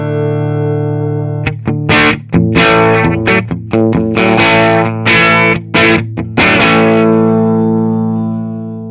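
Electric guitar through an Orange Micro Dark amp with the gain turned up, a sustained distorted chord followed by a loud run of gritty, crunchy strummed and picked notes ringing out at the end.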